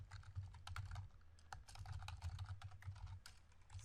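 Rapid keyboard typing while code is entered on a computer, with clustered, uneven clicks of keys continuing throughout, close and fairly quiet, with no voice.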